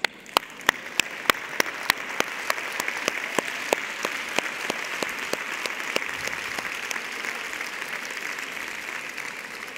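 Audience at a women's conference forum breaks into applause, beginning with a few sharp, separate claps that quickly thicken into a steady, dense round lasting the whole stretch.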